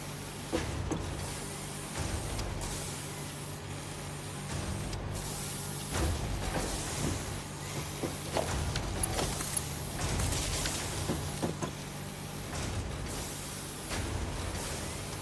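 Constructor machine running in the Satisfactory factory game, fed with screws and iron plates amid biomass burners: a steady mechanical industrial hum with rhythmic clanks and whirring pulses, continuous and fairly close.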